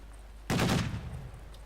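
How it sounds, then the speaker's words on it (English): A .50 cal machine gun nest fires in Company of Heroes 2, a single loud burst of gunfire that cuts in sharply and then decays into a fading rumble, with no talking. "and it's 50 cal machine gun nest."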